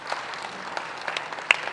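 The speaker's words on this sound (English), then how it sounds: "One more time, if you may, a round of applause" Conference audience applauding after a keynote address at a digital innovation week launch in Accra, a faint, steady patter of many hands clapping heard from a distance, with no voices over it.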